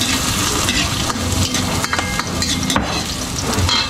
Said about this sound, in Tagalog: Dito ko lulutuin sa malaking kawali.